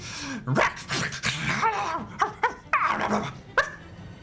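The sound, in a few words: voice imitating a hyena dialect yelled into a horn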